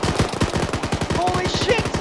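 Sustained automatic gunfire in Arma 3, a fast unbroken rattle of rounds at close range with a shouted voice briefly cutting in over it.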